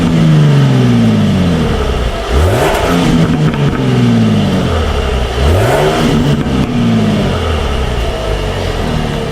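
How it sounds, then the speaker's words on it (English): A Jaguar F-Type V6 on its stock exhaust revs hard twice, each burst climbing sharply then falling back, over a loud continuous idle drone, close and with no talk. "find out what this stock exhaust sounds like"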